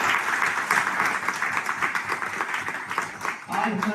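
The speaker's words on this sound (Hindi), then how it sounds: "दिल खो के तालियां बजा" Applause from an audience at a retirement ceremony honoring forty years of service, a steady crowd clapping that runs the whole time, fairly loud and dense, with some voices mixed in.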